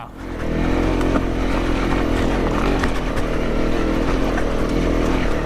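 Honda CRF 250 Rally motorcycle ridden along a trail in the North Devon countryside, its engine droning steadily and loud throughout at a constant pace, with no voices over it.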